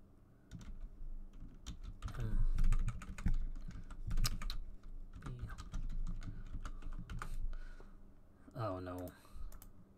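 Computer keyboard typing in quick irregular clatters of clicks, in bursts with short pauses, while a person talks nearby.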